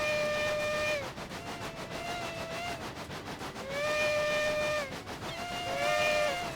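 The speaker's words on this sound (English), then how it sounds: "I'm whistling at the steam tram as well." A steam train whistle in a train driving video game blows repeatedly in long, steady harmonic blasts with short gaps, loud over a low rumbling background.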